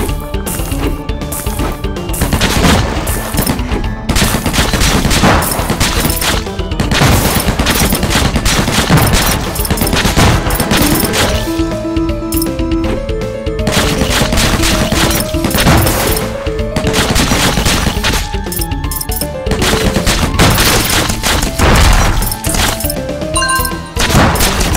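Heavy machine gun fire in the zombie shooter game Undead Squad, a loud, relentless stream of overlapping shots and impacts over game music, running without pause throughout.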